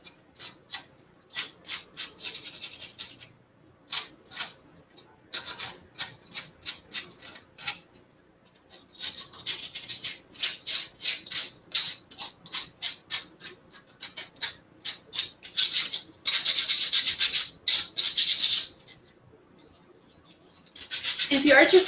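Dry rasping strokes of sanding on a wooden door hanger, coming in quick bursts with short pauses, then longer continuous passes near the end.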